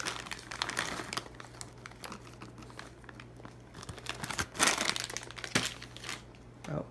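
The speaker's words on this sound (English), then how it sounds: "Open this bag a little bit more." Plastic bag of pecan halves being opened, with quiet intermittent crinkling and crackling in bursts, louder rustles near the end.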